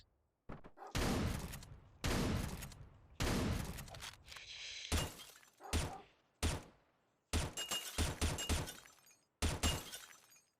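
Gunfire in Hotline Miami 2: a series of sharp, loud shot bursts come in irregular clusters separated by brief silences, with a short tonal blip between them.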